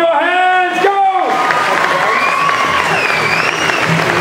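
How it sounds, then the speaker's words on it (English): A crowd at a cosplay competition in Perth claps and cheers loudly after a host's voice, with whoops rising over sustained applause. "Please clap your hands."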